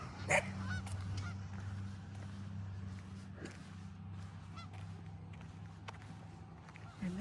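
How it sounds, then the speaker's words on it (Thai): Ducks honking and quacking in a harvested corn field, a few calls standing out over a low droning engine hum, no talking. "เป็ดจะอยู่ในทุ่ง เห็นไหม"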